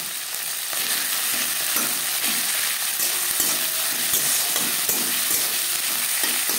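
Tomatoes fry lightly in a pan for vegetarian chickpea dal, a continuous close sizzle with scraping stirs and occasional spoon knocks against the pan, loud and unbroken, with no speech.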